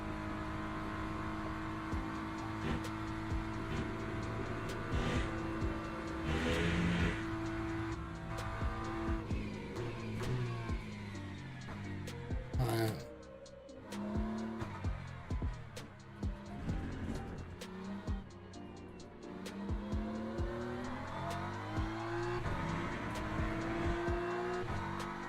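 Race car lapping in Le Mans Ultimate, its engine revving up and down through gears with shifts, braking dips and brief tire squeal, loud and close throughout with only a short drop in the middle.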